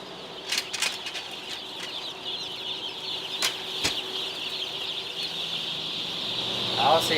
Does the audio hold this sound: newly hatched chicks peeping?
yes